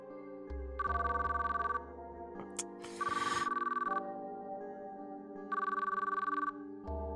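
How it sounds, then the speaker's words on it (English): A phone ringtone in the Zenless Zone Zero video game chimes in three repeated bursts over a steady electronic music bed, with a brief glitchy crackle between the first two rings. "As I listened to the phone ring"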